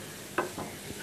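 Spiced mashed potato with chili and chopped nuts being stirred and fried on a stove, a few soft scrapes and a quiet sizzle, brief and low.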